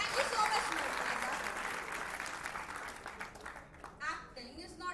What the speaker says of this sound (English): A huge round of applause again, guys.